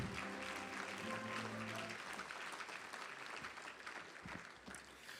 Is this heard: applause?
yes